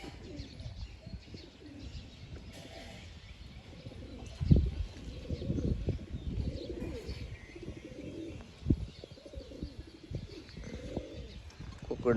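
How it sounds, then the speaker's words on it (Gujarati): Pigeons on a rural farm coo in repeated soft, throaty rolling phrases, close and steady, with a louder flutter or call burst midway and occasional chirps around them. "કબૂતર આમ છે."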